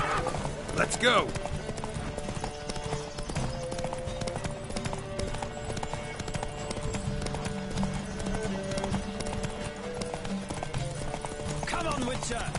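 Horses gallop hard in a race in The Witcher 3: Wild Hunt, their hooves a steady, close clip-clop with an occasional whinny, heard under shouting voices and layered game sound.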